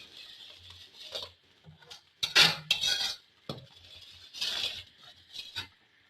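A metal spoon stirring and scraping boiling milk in a pan while making khoya, with irregular clinks and scrapes against the pan in several bursts separated by quieter pauses.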